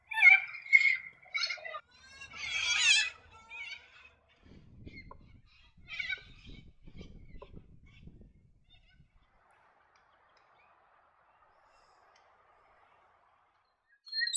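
Harsh, screechy calls from a little corella parrot in the Lockyer Valley at Gatton ring out in several bursts, loud and close at first, then fading to sparser cries with background rustling before silence.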